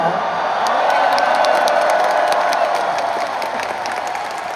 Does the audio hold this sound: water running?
no